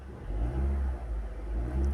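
A Skoda car engine revs as the gas pedal is pushed, giving a steady, close, low engine drone that swells and dips slightly for two seconds with no voices.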